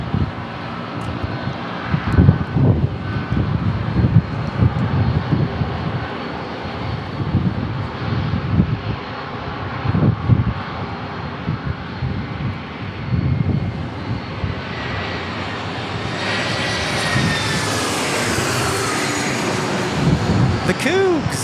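Airliner in special Go Cougs livery passing at San Diego International Airport, engine noise building from a rumble to a loud, close jet roar with a climbing whine, while people talk over the early part.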